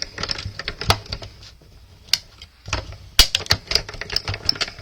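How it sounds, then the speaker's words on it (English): A small die-cutting machine clicks and clatters as a card passes through it during birthday card making, with rapid, irregular, close-up mechanical ticks and snaps that continue for several seconds. "And I know you can hear the clicking as it goes through."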